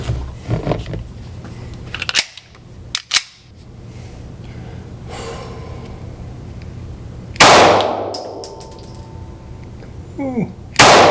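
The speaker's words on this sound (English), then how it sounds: "I've got the target out at 10 yards, and we're gonna go ahead and shoot this thing." Taurus G3 Toro pistol with a micro red dot sight fired at a target 10 yards away outdoors, a handful of sharp loud cracks at uneven intervals, with a rustling handling noise between.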